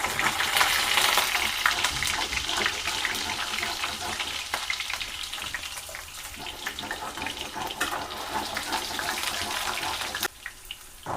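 Potato pieces fry in hot oil in a kadai. A dense, steady crackling sizzle runs close and loud throughout, with a short dip near the end.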